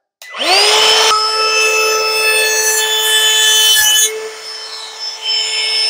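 A Ryobi P601 compact 18V trim router spins up to a loud, steady high-pitched whine and cuts along the edge of a piece of scrap wood clamped to a table, heard up close and alone for several seconds.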